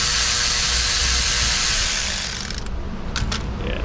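A ratchet driving a long 4-inch bolt on a 2.5-liter Subaru Forester, heard as a loud, steady mechanical whirring and clicking close up, easing off after a couple of seconds into quieter intermittent clicks.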